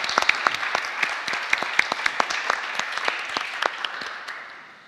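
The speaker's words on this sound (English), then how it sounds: "Let's give him a round of applause." An audience at a Dubai science talk gives a round of applause: crisp, individually distinct claps close by, lively and steady, then tapering off at the end.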